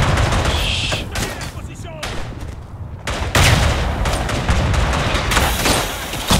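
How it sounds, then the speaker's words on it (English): Gunfire in the World War I shooter Verdun on the Aisne map: dense volleys of rifle and machine-gun shots, some close and sharp, others more distant, with explosions and a near-constant roar of battle. "they're more in the distance, I guess, shooting from the high ground"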